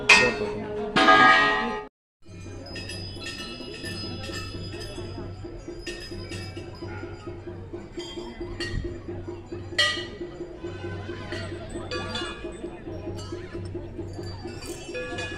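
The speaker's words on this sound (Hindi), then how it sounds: "आप देख रहे होंगे इस मंदिर में 3 लाख से ज़्यादा घंटियाँ लगी हैं।" Many bells clink and ring at Golu temple in Almora, which is hung with hundreds of thousands of bells, in bright scattered strikes over a steady low hum and crowd murmur, with a loud burst near the start.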